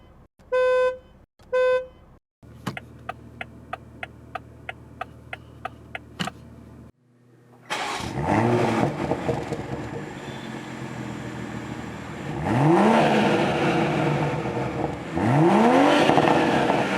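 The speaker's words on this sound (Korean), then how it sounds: "수프라가 들려주는 소리는 어떨까요?" Toyota GR Supra 2021 with a 387-horsepower engine: brief electronic chimes, then the engine fires up and revs loudly in several rising sweeps, close and alone with no talk.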